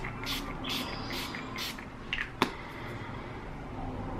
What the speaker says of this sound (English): I am going to use my setting spray.